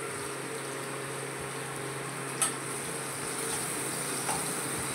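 Red chili powder goes into a hot pan while cooking red amaranth stem dal, giving a steady, even sizzle with one brief tap partway through and no talking.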